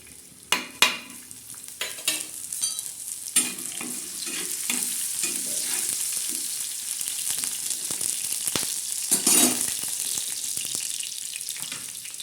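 Garlic sizzles and spits in hot oil for a prawn and onion chutney, a steady close frying hiss broken by scraping stirs and a few sharp clinks of a utensil against the pan.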